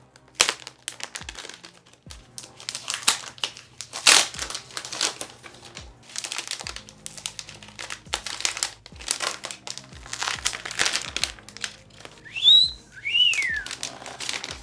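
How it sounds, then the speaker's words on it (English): Plastic wrap peeled and crinkled off a new Alienware m15 R6 laptop, with irregular close crackling and rustling bursts throughout and a couple of brief squeaky tones near the end; no talking. "we'll pull on this tab to lift this up. Take off the plastic"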